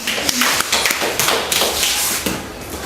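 Schoolchildren in a primary school classroom clap together in a quick, uneven burst of many hands, loud and close, with sharp overlapping slaps running throughout.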